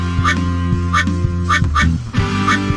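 Rubber duckies collected on a speedway in a Blaze kids' water park game sound off in a run of bright, repeated quacks over a looping musical backdrop.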